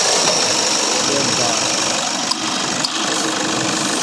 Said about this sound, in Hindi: तो इंजन का साउंड आप दोबारा चेक कर सकते हैं।